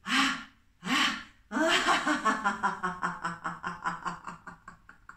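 Deep breaths during a relaxation exercise: two quick, airy inhalations, then a long series of rhythmic breathy pulses that fade steadily. No talking.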